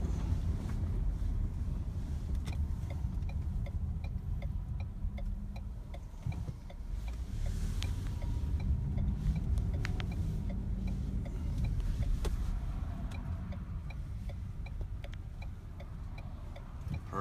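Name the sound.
Ford car driving onto a highway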